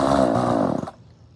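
A McCulloch Pro Mac 435 chainsaw runs loudly up close with a buzzing two-stroke drone that sputters and dies out after under a second, leaving quiet.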